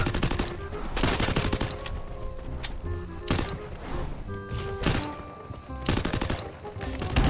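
UMP submachine gun fire in the Free Fire battle game, with repeated loud rapid bursts and volleys of shots crackling through most of the stretch, interspersed with other game sounds.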